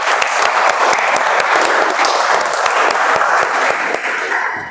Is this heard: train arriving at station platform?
no